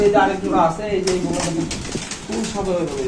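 Pair of teddy pigeons at a fancy pigeon market cooing in soft repeated bursts close by, with people talking over and between the calls.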